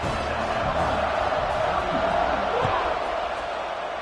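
A stadium crowd roars steadily and loudly through the whole stretch as an American football kickoff is set, a dense, sustained wall of cheering with no breaks.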